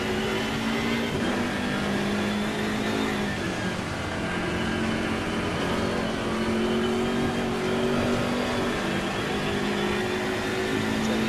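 Race car engine in the Assetto Corsa Competizione video game on a wet track, a steady loud drone with shifting pitch as the car accelerates, continuous throughout with no talking.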